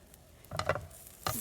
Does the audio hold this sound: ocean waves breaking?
no